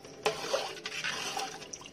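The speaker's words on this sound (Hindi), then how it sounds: "तो अब हम हमारे छोले में डालेंगे पानी" Water pours into a pot of chhole curry in quiet, uneven splashes and drips, close by, with no one talking.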